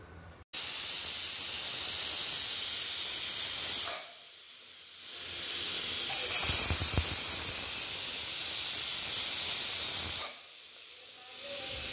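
A pressure cooker with mutton inside lets off a loud, steady hissing whistle in long bursts, with two brief drops in between before the jet of steam resumes.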